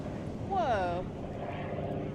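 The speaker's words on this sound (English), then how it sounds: "It's like a seaplane." A seaplane passes over Baker Beach near the Golden Gate Bridge as a faint, distant engine drone under outdoor wind and ambient noise, with a brief whistle and people talking nearby.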